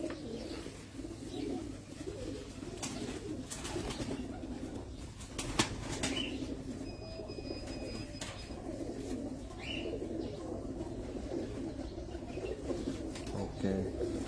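Pigeons coo softly and repeatedly from a rooftop loft in Abu Dhabi over a steady background hum, with occasional brief wing flaps and chirps scattered throughout.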